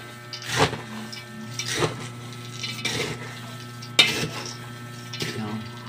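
Peanuts are stirred with salt, chili and garlic in a metal pot, giving a series of scraping, rattling strokes in an uneven rhythm with clinks between them, close and moderately loud.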